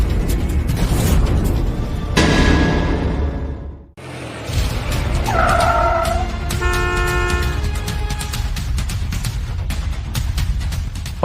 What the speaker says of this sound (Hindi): अम्मा, लगता है आपकी कार आ गई है।